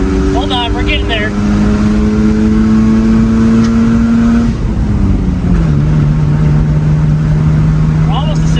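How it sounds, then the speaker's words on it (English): A 1985 Mazda RX7 GSL with Weber 40 DCOE carburetors pulls from 40 to 60 in second gear, a loud, close, droning engine note climbing steadily in pitch with a brief dip midway, as people talk inside the car. "You want a 40 to 60 roll in second gear?"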